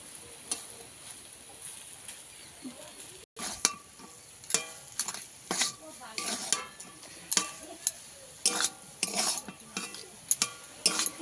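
Mashed taro being mixed by hand with crushed dried chili, heard as irregular wet scraping and tapping strokes of a utensil against a bowl, alone, with one brief silent gap.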